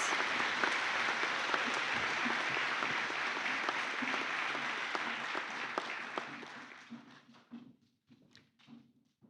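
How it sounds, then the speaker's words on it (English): A graduation ceremony crowd applauds graduates, a broad steady clapping that gradually thins and fades into scattered individual claps. "Please show your appreciation for these graduates with a round of applause."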